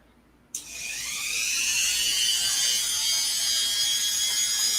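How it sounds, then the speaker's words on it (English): A Dremel rotary tool starts up with a sudden high whine and runs steadily while engraving, loud and continuous with no talk. "We have the Dremel."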